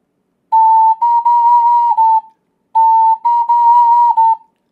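An ocarina plays a phrase of a song, a pure, steady whistle-like tone in two matching legato phrases separated by a short pause, clear and close with no talking.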